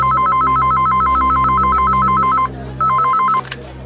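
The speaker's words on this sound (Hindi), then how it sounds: "किसका फोन है?" A telephone rings with a loud, close electronic trill in rapid repeated bursts, pauses briefly, then rings once more before cutting off, in an indoor office setting with no talk.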